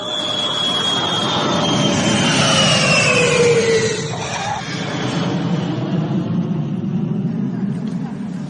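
A British Airways jet airliner arriving from London Heathrow roars continuously, with falling engine whines sweeping down over a broad rumbling wash that holds loud throughout.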